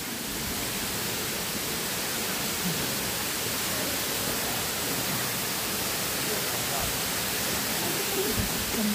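Cenghen Falls near Lecco, Italy, heard as a dense, steady roar of falling water that stays loud and close for the whole stretch.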